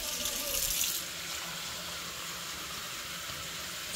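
Water runs steadily from a kitchen tap during cooking, a continuous hiss that is louder for the first second and then settles into an even, moderate flow with no talking.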